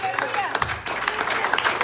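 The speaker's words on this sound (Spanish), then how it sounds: "Fuerte el aplauso al Señor Jesucristo." A church congregation breaks into a burst of applause, dense, loud clapping mixed with voices and crowd noise across a short stretch.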